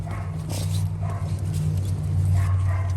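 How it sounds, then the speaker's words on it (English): A puppy gives faint yips and whimpers over a low, steady hum indoors at a vet ranch. "Look at this puppy. This is a real puppy."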